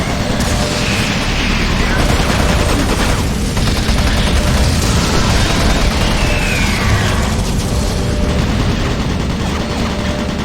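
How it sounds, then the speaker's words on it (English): Automated turret guns in Doom 3 fire dense, continuous bursts of gunfire with booming impacts, loud and sustained throughout, heard within a game soundscape alongside a synthetic announcement voice. "Automated turret guns online."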